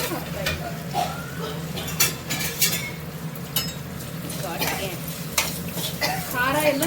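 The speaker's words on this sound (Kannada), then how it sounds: "ಈಗ ಇದಕ್ಕೆ ಒಣಮೆಣಸಿನ್ಕಾಯಿ ಹಾಕ್ತಾ ಇದ್ದಾರೆ." Dried red chillies tossed into hot oil for uppittu (upma), giving a steady sizzle with repeated scraping stirs and occasional clinks of a utensil against the pan, close and fairly loud.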